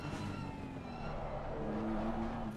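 Tyres squealing under braking on a race car in Assetto Corsa Competizione at Monza's Ascari chicane, a sustained high tonal squeal over a loud steady engine drone, no talk.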